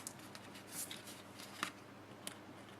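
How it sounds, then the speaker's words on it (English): Scissors cutting cardstock along a score line for a scallop-trim treat box, with a few quiet, close snips and paper rustles spread over a couple of seconds in a hushed room. "Cut up to the score line. And then trim off this small piece."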